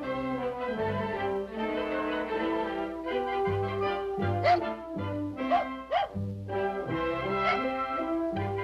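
A family dog barks and yips in the distance beneath an orchestral score with strings and brass. Several short bursts of barking rise above the music, set in Yellowstone bear country.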